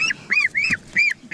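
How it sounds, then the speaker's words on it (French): A young female Normandy goose honking, four or five close, loud nasal honks in quick succession with brief gaps between them. "Et c'est une oie normande."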